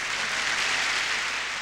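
A crowd applauds at length after a performance, a dense, even wash of clapping that holds steady throughout with no voices on top.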